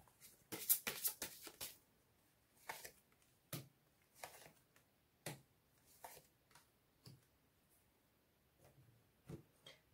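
Tarot cards being shuffled and handled, quiet close papery riffles and taps, busier at first and then spaced out into irregular soft flicks.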